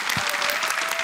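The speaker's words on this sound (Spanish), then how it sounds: "a los primerizos se les recibe con este fuerte aplauso" Loud, close studio audience applause on a Mexican talent show, a dense steady burst of clapping filling the whole second with no one speaking over it.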